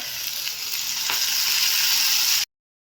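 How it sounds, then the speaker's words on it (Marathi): Steady, close sizzling of cluster beans frying in a hot pan, a continuous crackling hiss that cuts off abruptly. "आता आपली गवारी भाजत आलेली आहे। आता आपल्याला यात तेल घालायचं।"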